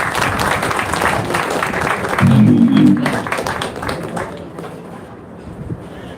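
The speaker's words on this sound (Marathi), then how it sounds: "सर्वांनी जोरात टाळ्या वाजवायच्या आहे." An audience at a state-level poetry gathering bursts into loud, sustained clapping that peaks briefly, then thins out and fades over several seconds.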